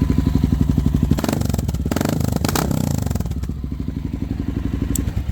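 A red and white 2021 Honda XR650L motorcycle engine thumps with a steady rhythmic idle, loud and close, swelling into a brief throttle rev in the middle before settling back to the pulsing idle.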